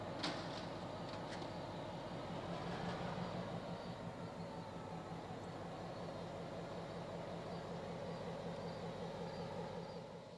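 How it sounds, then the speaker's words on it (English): A heavy rumbling drone of passing CPKC freight trains at a Louisiana & Northwest Railroad locomotive shop holds steady throughout, with low engine throb and a brief high squeal near the start. "Job 1 must wait for a pair of CPKC road trains to pass"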